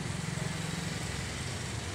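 A small motorcycle engine drones steadily nearby on a rainy street beside a roadside stall, a constant buzzing hum lasting the whole moment without voices.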